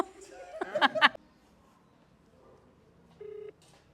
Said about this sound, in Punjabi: ਜੋਬਨ ਨੂੰ ਫੋਨ ਲਾ ਹੀ ਲੈਣੀ ਆ